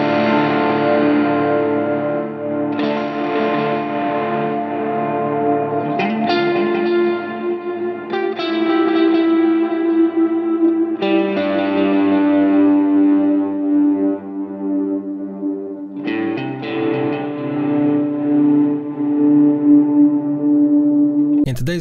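An ambient electric guitar tone through a Line 6 POD GO effects processor: sustained, heavily reverberant chords and swelling notes wash over each other for about twenty seconds, loud and continuous with long echoing tails.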